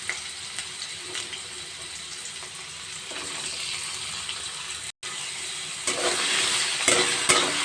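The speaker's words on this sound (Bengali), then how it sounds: "আলুগুলো এক মিনিট নাড়াচাড়া করে নেব এক মিনিট ভেজে নেব" Diced potatoes stirred and frying in white oil with bay leaf, chopped ginger and green chilli in a pan, a steady close sizzle with scraping stir strokes that grows louder toward the end, no voices.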